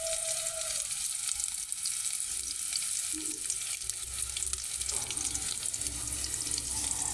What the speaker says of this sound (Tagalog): Nantayin lang po natin na pumula-pula ang kulay ng sibuyas at saka yung bawang.